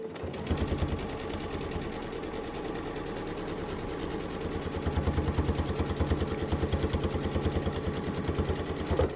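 A sewing machine stitches a quilted mug rug in a fast, steady mechanical chatter, speeding up into a denser, louder run during the second half.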